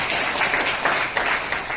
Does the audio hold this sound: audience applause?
yes